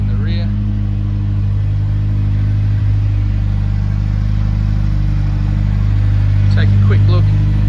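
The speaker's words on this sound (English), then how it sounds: "Real nice note coming from this car." A Subaru WRX Premium with twin dual exhaust tips idles steadily nearby, a deep, even engine and exhaust drone that holds throughout, with faint high chirps near the start and end.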